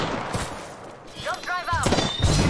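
Gunfire in a battle royale video game during ranked play, heard as bursts of shots and thuds across the clip with raised voices and game sound mixed in.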